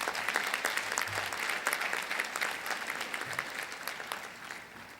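Audience applause after a disaster-preparedness talk on extreme weather, a steady wash of many hands clapping at moderate distance, sustained for several seconds and easing slightly toward the end.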